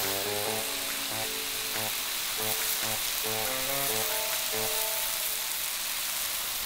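Steady crackling sizzle of chicken stir-frying in a hot wok, a dense hiss that holds throughout, with soft musical notes playing underneath.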